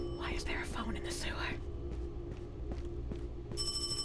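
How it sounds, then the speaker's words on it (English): In a horror video game, hushed whispering gives way to soft footsteps in a sewer, then a shrill electronic phone ring starts up near the end. "Why is there a phone in the sewer?"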